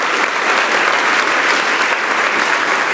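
A church congregation applauds in praise, a dense, steady wash of many hands clapping that stays loud and even for the whole stretch, with no voices standing out.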